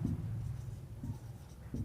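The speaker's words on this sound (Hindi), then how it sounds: "तो लिखेंगे हम लोग यहाँ पे" Pen or chalk writing on paper during a maths lesson gives a faint, close scratching with brief strokes and short pauses, without speech.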